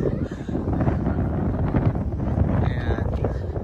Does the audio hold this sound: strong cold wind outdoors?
yes